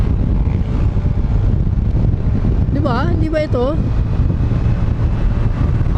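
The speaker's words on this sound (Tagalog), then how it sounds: "Ang lakas ng hangin! Grabe! Ang lakas ng hangin!" Strong wind buffets the microphone in a steady, loud roar throughout an outdoor camping trip in Tanay with a Honda Navi, while voices speak briefly in the middle.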